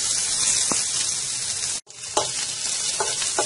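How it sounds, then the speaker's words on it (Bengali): Chopped onions fry in a tablespoon of hot oil, a steady close sizzle with a brief cut partway through, then sharper crackles and stirring scrapes as frying resumes. "এখন দিয়ে দিচ্ছি আমি পেঁয়াজ কুচি"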